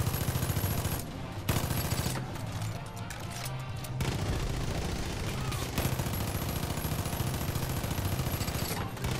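Rapid, nearly continuous gunfire rattles out while zombies are shot in a video game, with dense bursts filling the whole stretch and only brief gaps.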